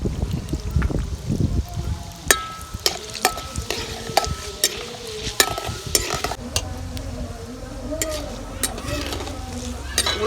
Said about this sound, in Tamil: உளுந்தை போட்டு வறுத்துக்கலாம்.